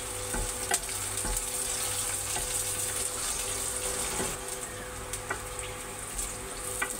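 Spices including a small piece of cinnamon fry lightly in a small wok as pumpkin curry begins, giving a soft, steady sizzle with occasional stirring clinks, quiet and close, with no talk.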